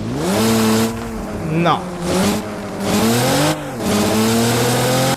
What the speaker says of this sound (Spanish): Creo que no cambia el sonido cuando está tuneado el vehículo